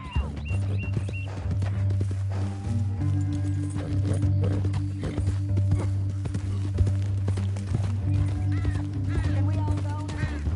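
Horse hooves clip-clopping in Red Dead Redemption 2 during a mission where the player is tied up on a horse bound for Saint Denis, a steady rhythmic gait under a low music drone, with occasional voices.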